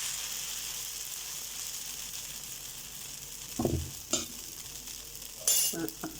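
Appam batter spread on a hot dosa griddle hisses with a soft, continuous sizzle, joined near the end by a few short scraping knocks as it is smoothed out.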